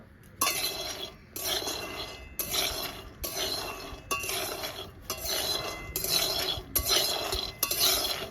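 Peanuts roasting in a hot kadai over a lit stove, stirred with a metal spatula: about eight rhythmic rounds of rattling, clinking scrapes, each followed by a brief pause, loud and close.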